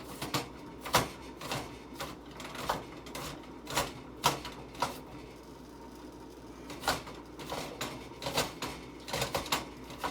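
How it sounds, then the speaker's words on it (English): A knife chops already cut-up food into small pieces, with sharp, irregular knocks coming in bursts and short pauses, close and moderately loud. "I'm sort of going over everything I cut up, just to get it cut into pieces as much as possible"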